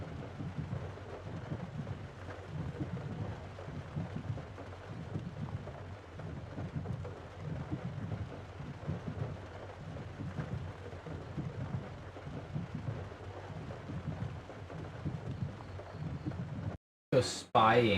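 Steady rain and rolling thunder from a stormy night drive in Japan in Forza Horizon 6, a continuous dense wash with low rumbles that cuts off abruptly near the end.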